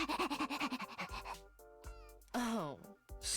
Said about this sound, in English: Why is Darmy barking?